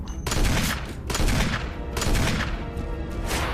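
Gunfire from Resident Evil HD aimed at the Tyrant comes as rapid, heavy volleys that fill the whole moment, loud and booming with no break.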